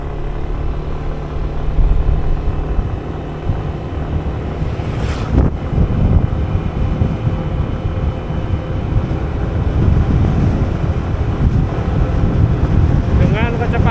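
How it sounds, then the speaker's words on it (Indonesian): Steady roar of wind buffeting an action camera mounted on a motorcycle riding outdoors at about 50 km/h, loud and continuous with low rumble throughout. "Ini saya naik motor ya guys."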